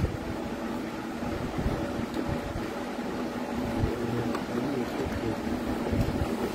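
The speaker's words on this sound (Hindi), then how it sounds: "एग्जॉस्ट है जी ये, चला के चेक करवाए जरा" A small exhaust fan runs with a steady, fairly loud broadband whoosh and hum throughout, with no talk over it.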